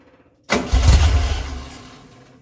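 A car engine fitted with a 44IDF Weber carburetor fires up suddenly, with a deep loud rumble swelling after the catch and then easing toward idle, heard alone and close.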